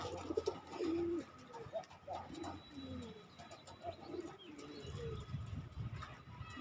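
Soft, repeated pigeon cooing nearby, low and throaty, with a steady background hum and some faint rustling.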